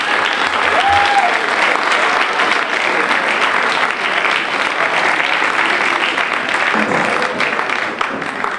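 Sustained, dense audience applause at a live award ceremony for young songwriters, loud and steady throughout with a hint of a voice near the start.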